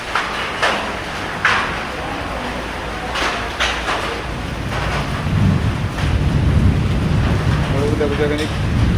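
Heavy rain pours steadily with hailstones striking hard during an unseasonal storm, sharp scattered impacts over a dense roaring wash and gusts, a voice talking underneath.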